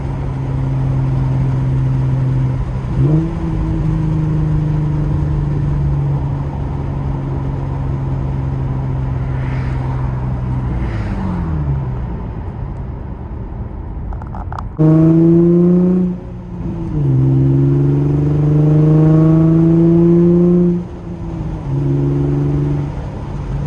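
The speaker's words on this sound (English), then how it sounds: "this car sounds so amazing" A loud Infiniti G35 coupe engine holds a steady cruise, then revs hard several times, its pitch climbing and dropping through gear changes, heard close from inside.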